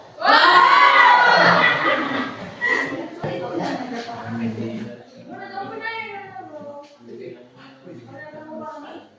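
A group of people, sounding like students in a classroom session, lets out a loud collective shout on command, starting at full force and then trailing into scattered voices, laughter and chatter.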